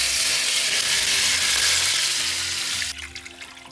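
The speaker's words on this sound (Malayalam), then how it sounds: "ഞാൻ ഇതിലേക്ക് ചോറ് വെക്കാനുള്ള വെള്ളമാണ് ഒഴിക്കുന്നത്" Water poured into hot ghee in a pot for egg biryani rice makes a loud, steady sizzling hiss that eases off after about three seconds into a softer bubbling.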